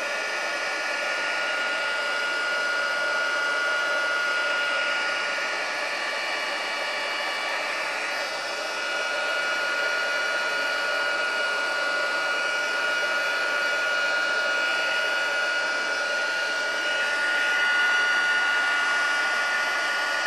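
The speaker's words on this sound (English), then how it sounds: "Sorry about the noise of the heat gun." A heat gun blows steadily for embossing a stamped Christmas pines card, a constant loud whooshing roar with a faint whine that holds level throughout with no talk.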